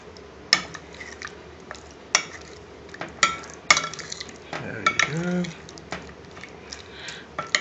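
Paneer pieces being stirred with spices in a pan, giving intermittent clinks and scrapes of utensil against cookware with a brief soft sizzle, close and moderately loud, while someone talks over it.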